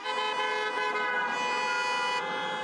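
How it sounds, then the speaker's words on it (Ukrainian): Car horns honk nonstop in a Ukrainian street rally for prisoners of war, several horns blending into one loud, sustained, steady blare for the whole stretch with no talking. "Клаксони авто не змовкають."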